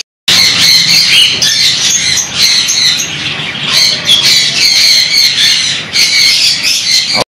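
Common budgerigars in breeding cages squawk and chatter loudly and continuously at close range, a dense, shrill flock sound with brief dips, and no talk.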